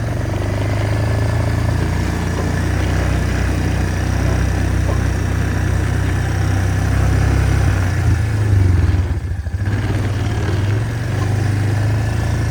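A Suzuki Ozark ATV engine runs steadily while being ridden off-road, a loud, constant low drone with a brief dip near the end.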